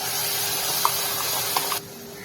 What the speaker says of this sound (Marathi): हा मसाला चांगला तळून घ्यायचा।